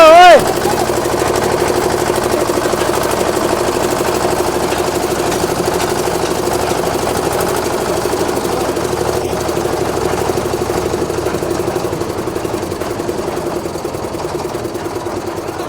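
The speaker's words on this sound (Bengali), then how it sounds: "মেশিন স্টার্ট হয়ে গেছে এবার উনি নিজেই টেস্টিং করে দেখবেন" A concrete casting machine's engine runs steadily after starting, a loud, continuous mechanical drone that stays even throughout, with voices talking over it.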